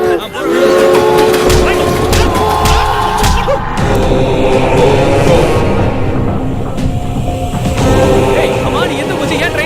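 A train rolls along a railway line bound for Chennai, with loud, continuous rumbling and clatter, horn-like tones rising over it, and voices talking and calling throughout.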